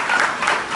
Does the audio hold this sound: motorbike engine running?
no